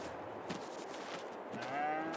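Cattle lowing in Farming Simulator 22 on a barn area with water trough, a few faint, drawn-out moos, including one rising moo near the end, over quiet ambient background.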